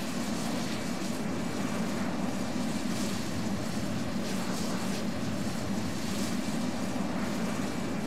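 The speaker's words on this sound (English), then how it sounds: "We will be taking off with the afterburners on." A Tu-344 jet in Roblox Aeronautica takes off with afterburners on, a steady, dense engine roar holding at an even, unbroken loudness throughout.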